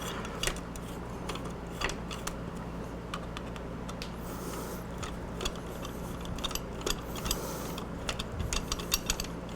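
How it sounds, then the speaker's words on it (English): Wrench tightening brake master cylinder bolts on a Ninja 400 during a rearset install, giving rapid, fairly quiet ratcheting clicks in irregular bursts over a low hum, close by and with no talking. "Now, let's tighten our brake master cylinder bolts first."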